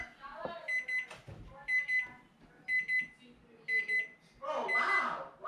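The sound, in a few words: kitchen timer going off while cooking hobo stew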